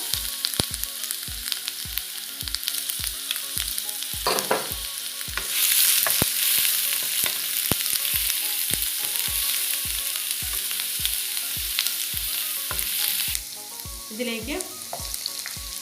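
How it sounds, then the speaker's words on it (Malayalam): Crushed ginger and garlic, two tablespoons, sizzling and frying in hot oil for chicken 65, a loud steady crackle with regular stirring scrapes and a brief spoken word over it. "എണ്ണ ഒന്ന് ചൂടായി വന്നിട്ടുണ്ട്. അതിലേക്ക് 2 ടേബിൾ സ്പൂൺ ഇഞ്ചിയും വെളുത്തുള്ളിയും കൂടെ ചതച്ച് ഇടുകയാണ്"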